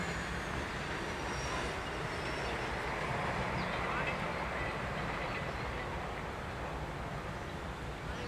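A train hauling specialty flat cars rolls past on a line in northeastern Pennsylvania, a continuous loud rumble of wheels and cars that holds steady throughout with faint squealing.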